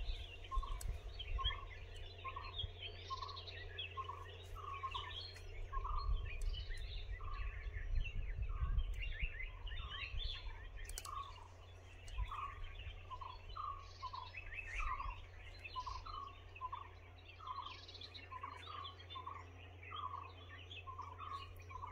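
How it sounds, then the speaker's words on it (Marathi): Birds call repeatedly near Nimgiri fort on a hillside approach, a rhythmic series of bright chirps at moderate distance over a low, faint background rumble, with no talking. "सुंदर अशी पक्ष्यांची किलबिल ऐकायला येत आहे"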